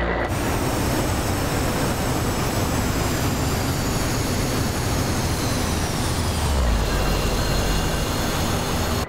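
OV-10 Bronco engines roaring steadily in reverse thrust during a landing rollout in a flight sim, a loud continuous drone with a high whine that dips in pitch near the end.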